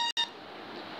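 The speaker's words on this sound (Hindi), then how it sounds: "यहाँ पर अलार्मी तरफ से इतनी सारी 8 बहुत ही अच्छी रिंगटोन्स आपको मिलेगी" A short electronic beep tone from the Alarmy alarm app's ringtone preview, a bright harmonic bleep cut by a brief gap, then fading into a softer hiss-like tail, no voices.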